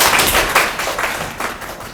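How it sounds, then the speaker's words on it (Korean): An audience at a seminar hall claps, a scattered patter of hand claps that swells and fades in uneven bursts. "큰 박수로 맞아주십시오."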